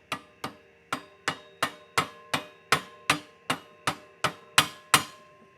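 Hammer blows drive motorcycle handlebars into a tight fit, about thirteen sharp metallic strikes in a steady rhythm, close and clear with no talking.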